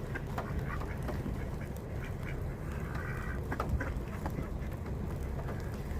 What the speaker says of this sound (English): Ducks in the city.